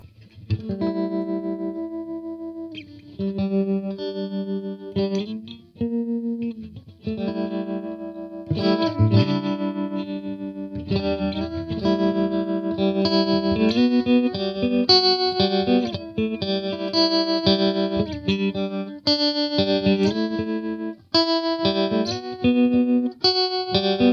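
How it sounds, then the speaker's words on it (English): An electric guitar plays chords and riffs through a Boss Nextone amp with a wavering tremolo effect, the pulsing volume clear over about twenty seconds of playing. "You got your vibrato, or tremolo I should say."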